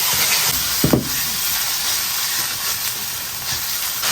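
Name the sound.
stir-frying minced meat with chili bean paste in oil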